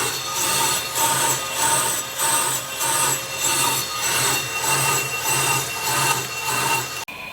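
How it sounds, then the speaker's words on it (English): A brake lathe blade cuts across a spinning brake rotor with a loud, continuous scraping rasp that swells and fades in a steady rhythm. The sound is close by and cuts off abruptly at the end. "when the blade's riding over it, it gives it a true and correct surface"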